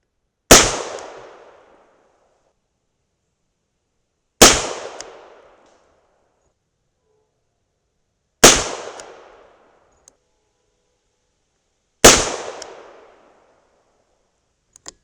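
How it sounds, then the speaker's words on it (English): .38 Special +P rounds loaded with 125gr Hornady XTP bullets fired outdoors: four sharp, loud single gunshots spaced about four seconds apart, each with a quick decaying echo. "That shot was much louder and much faster"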